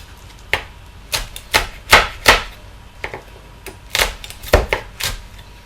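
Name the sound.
knife chopping chilies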